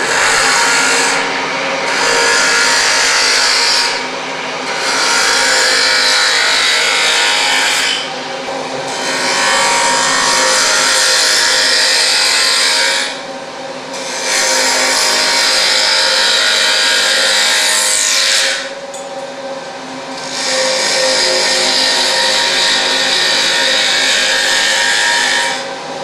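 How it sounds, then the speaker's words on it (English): A ball gouge roughs out a workpiece spinning on a wood lathe, giving a loud, continuous hissing scrape in long passes separated by brief lighter pauses as the tool lifts and returns, with no talking. "I'm going to rough with my ball gouge first."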